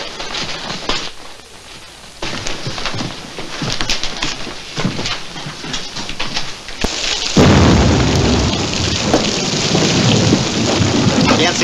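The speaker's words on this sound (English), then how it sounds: "Can't see nothing in this rain." Heavy rain pours steadily while thunder rumbles, swelling into a loud, close downpour partway through; no voices. From a western movie.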